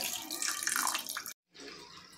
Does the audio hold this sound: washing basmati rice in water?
yes